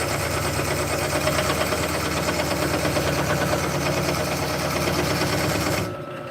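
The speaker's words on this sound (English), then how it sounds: "So far in this turning, I haven't had it above 800 RPMs." A wood lathe spins at up to 800 RPM while turning wood, giving a steady mechanical hum and whir with fine rhythmic vibration that drops off sharply near the end. No one speaks.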